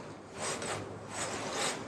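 Leftover plastic on a Jeep JL fender is trimmed, producing short rasping, scraping strokes in a few rhythmic bursts up close, with no talking.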